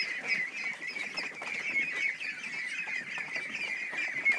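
Ducks in a barn keep up a dense, steady chorus of quacking and chattering calls, close and continuous throughout, with no talking.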